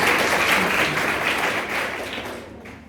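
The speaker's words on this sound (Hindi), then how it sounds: "अब ताली बजाओ" An audience in a college lecture hall claps steadily in dense, sustained applause that tapers off toward the end.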